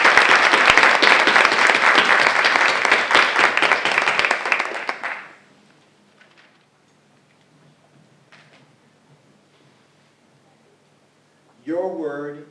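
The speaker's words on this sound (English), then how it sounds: "Round of applause for the..." Audience at a school spelling bee applauds a speller, a loud crowd of clapping hands for about five seconds that quickly dies away into near silence before a voice speaks.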